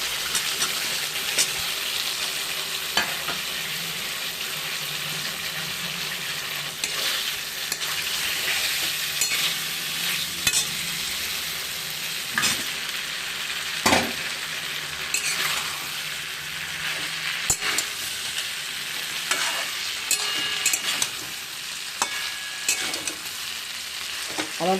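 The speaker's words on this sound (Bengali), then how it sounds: "এখন আমি পেঁপেটা আর সয়াবিনটা দিয়ে দেব।" Papaya and soybean fry in a pan with a constant sizzle, broken by stirring scrapes and clatters against the pan, alone without talk.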